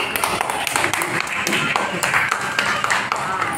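Continuous loud clapping from a gathered audience in Varanasi, many hands striking in a dense, even patter close to the microphone.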